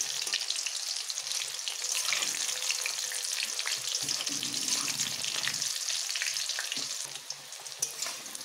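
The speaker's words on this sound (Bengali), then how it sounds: "এইভাবে উল্টে বেশ লাল লাল করে ভেজে নেব।" Chicken pieces fry in hot oil and get flipped, giving a continuous bright sizzle with scraping stir sounds, close and steady, easing slightly near the end.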